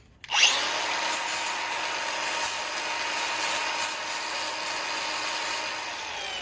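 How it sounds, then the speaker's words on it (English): A power tool starts up and roughens the chrome surface of a side light before painting, a loud high grinding whine that holds steady with small surges as it is pressed against the part, with no talk. "roughen up the surface so the paint can stick"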